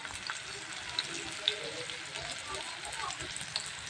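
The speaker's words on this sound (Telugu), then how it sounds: "ఉల్లిపాయ ముక్కలు అయితే వేసుకుని ఫ్రై అయితే చేసుకుంటాను అనమాట" Onion and ginger pieces fry in a pan with a steady, close sizzle and crackle that runs the whole time, with a few small pops standing out.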